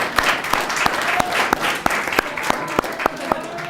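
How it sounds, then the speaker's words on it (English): An awards ceremony audience at the 2014 Fordy Awards applauds in a moderate, lively round, individual sharp claps standing out above a murmuring crowd wash throughout. "And then everybody clap."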